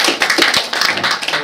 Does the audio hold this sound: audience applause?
yes